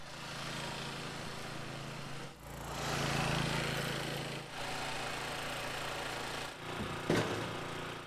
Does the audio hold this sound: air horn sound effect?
no